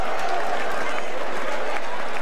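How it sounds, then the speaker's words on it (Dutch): Audience at a corso parade prize ceremony applauding, a steady dense wash of clapping from a crowd that holds constant for the whole stretch. "Een groot applaus voor de KWOV."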